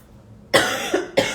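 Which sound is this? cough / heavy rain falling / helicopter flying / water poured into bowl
cough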